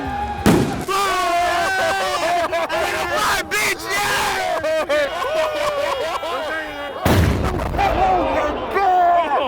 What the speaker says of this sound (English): We're about to light a firework.